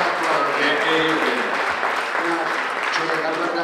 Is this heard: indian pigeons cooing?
no